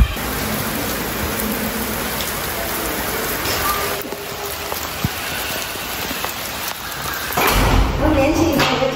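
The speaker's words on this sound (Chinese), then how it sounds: "下雨了， 很舒服" Steady rain falling outdoors, a dense continuous hiss of drops on surfaces that swells louder near the end, with people talking faintly underneath.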